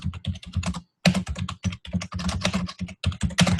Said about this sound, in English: And then what I can type in is I can type in Canadian marketing team.